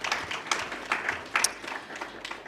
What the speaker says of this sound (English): And I think you deserve to give yourself a round of applause for being there.